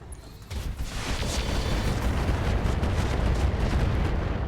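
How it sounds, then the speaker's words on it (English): A binary laser fires in the RogueTech mod of the BattleTech mech game, a sustained roaring, crackling burst that swells quickly and holds at steady loudness, with no voices present. "I think we can get away with firing the binary laser"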